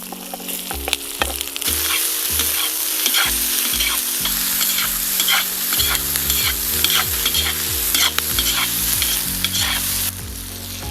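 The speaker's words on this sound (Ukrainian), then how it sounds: "Морква з цибулею смажиться" Loud, continuous sizzling of carrots and onions frying in a pan, with occasional scraping and stirring sounds breaking through the crackle.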